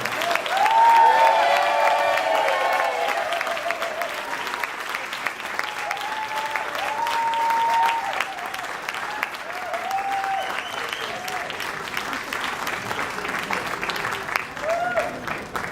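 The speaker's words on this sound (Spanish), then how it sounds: "favor de darle un fuerte aplauso estilo mexicano, no estilo gringo, al señor David Brown, por favor." A large audience at a company founders' meeting in Guadalajara applauds for a sustained stretch, with dense, steady clapping that gradually thins out. Some faint voices rise over it.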